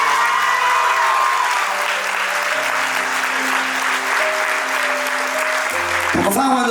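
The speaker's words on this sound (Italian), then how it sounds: "Facciamo un applauso a questa bellissima vita" A live concert crowd in Milan applauds in a dense, sustained wash while sustained musical tones hold underneath; a brief sharp rising tone cuts in near the end.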